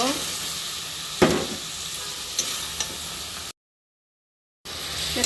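Fish curry with rui fish, beans and potatoes sautéing in a pan with salt, turmeric, coriander and cumin, giving a steady sizzle and a few scraping stirs, interrupted by a short gap of silence.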